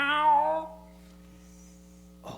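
A cat named Yuri gives one clear, close meow at a live Christmas show, followed by quiet with a steady low hum and a brief noise at the end.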